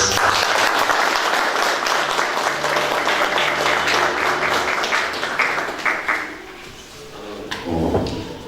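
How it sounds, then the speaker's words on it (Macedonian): Applause for student poets at a poetry day event, a dense burst of many hands clapping that fills the room and then thins out toward the end. "Ако може да ги охрабриме со еден аплауз."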